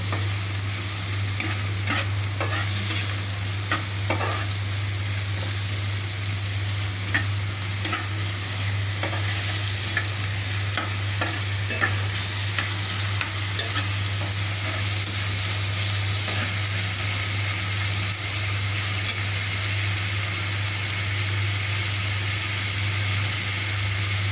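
Chopped onions frying with cinnamon in a pan: a loud, continuous sizzle with intermittent scraping clicks of stirring, plus a steady low hum underneath, close and without talking.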